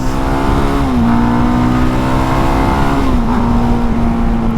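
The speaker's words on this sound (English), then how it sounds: "So much traffic" Steady, loud road traffic noise with a continuous engine drone whose pitch dips and shifts as vehicles pass, heard up close without any talking.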